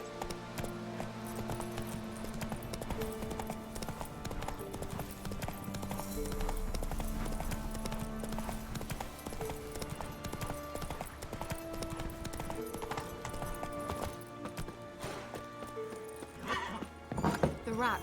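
Roach, the horse in The Witcher 3, gallops with rapid rhythmic hoofbeats and snorts or whinnies, up close amid game music and a voice.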